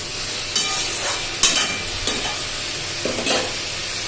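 Ridge gourd and potato curry sautéed over low heat, with repeated spatula scrapes against the pan, about five distinct strokes, over a steady soft sizzle.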